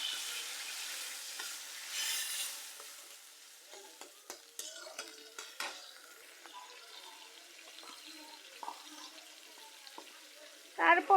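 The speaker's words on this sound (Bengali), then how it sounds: "শুটকিগুলো ভাজা হয়ে গেছে, এর মধ্যে আমি জল দিয়ে দেব পরিমাণ মতো।" Fried dried fish in a pan crackle and sizzle softly as water is added, with scattered sharp spits and stirring scrapes, ending in a brief louder hiss; no speech.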